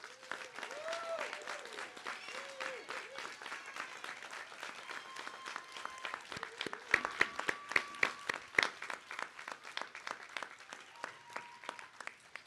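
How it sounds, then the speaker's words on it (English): A commencement audience applauds the graduating class of 2025 with sustained clapping from many hands, dense and steady throughout, with occasional sharper nearby claps and a few faint whoops. "I ask you now stand and accept our congratulations and applause, class of 2025."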